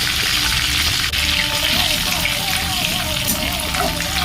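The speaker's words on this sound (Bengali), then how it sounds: "চিংড়ি ভাজার তেলে দিয়ে দেবো 2 শুকনো লঙ্কা, ছোটো চামচ 1 চামচ গোটা জিরে আর 2 তেজপাতা।" Dried red chillies, whole cumin and bay leaves fry in oil left from frying prawns, giving a continuous loud hissing crackle that stays close and even throughout.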